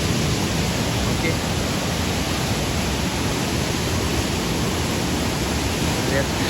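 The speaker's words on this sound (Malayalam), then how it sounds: "ഒരു രക്ഷയില്ലാത്ത വെള്ളച്ചാട്ടം" Chappanthottam waterfall, a hidden forest cascade, gives a dense, continuous roar of falling water heard up close, loud and unchanging throughout.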